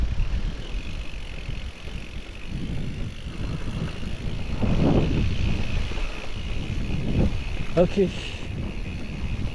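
Gusty wind buffets the microphone during an electric-assist mountain bike ride around Lesaka, a steady rushing roar that swells in the middle, with someone speaking briefly near the end.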